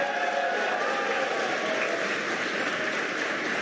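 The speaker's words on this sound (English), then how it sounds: "You can hear cheering here at SpaceX headquarters as the employees that have gathered around our mission control center are sharing the same view as you." Employees gathered around mission control at SpaceX headquarters cheer during a spacecraft splashdown, heard as a continuous, fairly distant crowd roar mixed with applause, steady and even in level throughout.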